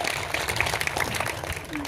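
Villagers at an outdoor gathering break into dense, strong applause for Sotha village, a busy mass of handclaps with voices mixed through it.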